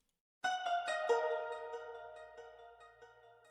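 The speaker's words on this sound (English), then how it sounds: "After that I put a subtle delay on it," A synth sample in FL Studio with a subtle low delay added, a few quick plucked notes followed by a soft trailing echo that fades out slowly, quiet and alone.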